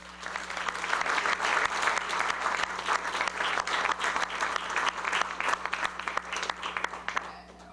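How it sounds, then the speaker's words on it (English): Sustained applause from a crowd at a university opening ceremony for a new hall of fame inductee, dense and even clapping that holds for several seconds before starting to thin at the very end. "I think that deserves another round of applause."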